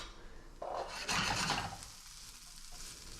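Shallots sizzle and get stirred in a hot pan, with soft scraping and a brief burst of frying hiss, close and fairly quiet.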